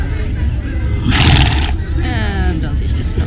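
A driving horse neighs and whinnies nearby in a loud, quavering call, with people talking around it.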